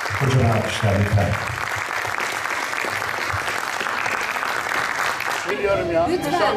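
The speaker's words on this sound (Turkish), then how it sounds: "Kocaman alkışlar lütfen." Audience applause at a documentary film festival award ceremony in Safranbolu, a dense sustained clapping over several seconds that ends with a voice speaking.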